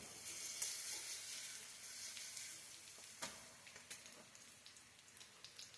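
Banana pancakes sizzle on an electric griddle after being flipped, a steady close frying hiss with scattered small pops and crackles and no talking.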